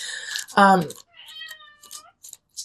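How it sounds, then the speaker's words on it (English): A cat meows close by, one loud drawn-out meow followed by softer, shorter mews. "Can you hear my kitty?"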